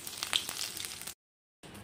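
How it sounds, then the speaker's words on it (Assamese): Black cumin seeds hit hot mustard oil in a kadai on a gas stove, giving a steady bright sizzle that cuts off briefly and then resumes. "তেলত দি দি আছোঁ কেইটামান ক'লা জিৰা"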